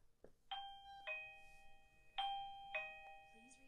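An Arenti VBell1 wireless video doorbell chime rings close by, two tonal ding-dong pairs in quick succession after a faint click.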